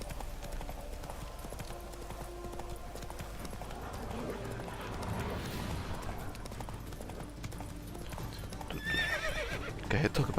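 In a video game, a horse's hooves clip-clop steadily and it whinnies, the sounds layered under game ambience and a player talking, with a louder burst near the end.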